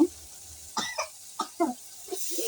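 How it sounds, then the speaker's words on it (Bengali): Several short coughs in a row, close by, with brief gaps between them and faint background noise from a village kitchen with a clay stove where curry is cooking. "কাশি হচ্ছে"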